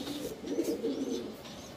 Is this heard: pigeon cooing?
yes